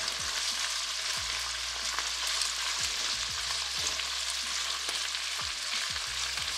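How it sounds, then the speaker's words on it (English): Chicken sausage and vegetables stir-fried in oil in a pan, moved around with a flat spatula: a loud, steady sizzle with repeated soft knocks and scrapes of the utensil against the pan, no talking. "when you're stir frying, try and use a spatula or a spoon which is quite flat"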